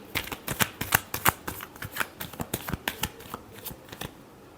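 A deck of tarot cards is shuffled close up: a rapid, uneven series of crisp slaps and riffling flutters repeating for several seconds, with no talking.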